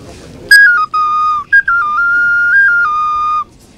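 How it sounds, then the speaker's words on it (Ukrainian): A shrill traditional Bukovinian folk whistle plays a wavering, stepped melody in short bursts, then a long sustained run of tones, clear and close with no voices, at a Chernivtsi city day celebration. "Цьогоріч дивувала буковинців традиційними свистунцями у народному стилі"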